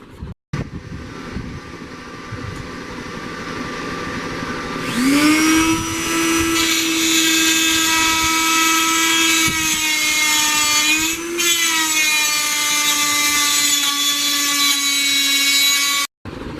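A die grinder grinding brass knuckles, starting with a low rumble and then rising into a loud, sustained high-pitched whine about midway. The whine holds steady with a slight pitch wobble, close up with no talking, and ends abruptly.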